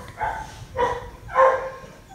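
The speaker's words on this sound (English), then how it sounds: "Sorry if you hear my dogs barking in the background." Three distinct dog barks in a row, moderately loud and a little distant, with brief pauses between them.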